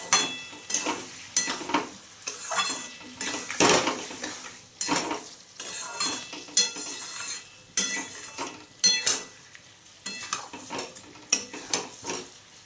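A spoon scrapes and clacks against a pot, stirring and mashing boiled hog plums into a chili-spiced Bengali pickle with a soft sizzle underneath, the rhythmic strokes repeating roughly every second, close by and with no talking.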